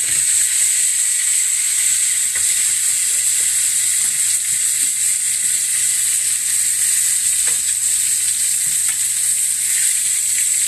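Mushrooms and onions fry in a pan for a sauce, giving a steady loud sizzle and hiss with occasional scraping stirs and clicks, no voices over it.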